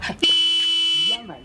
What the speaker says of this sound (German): Hupen Sie.